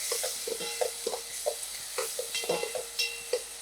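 Thinly sliced onion fries on a medium flame for a tamarind-leaf fish curry, a light sizzle broken by repeated short scraping stirs of a spoon against the pan in an irregular rhythm, close, with no voices.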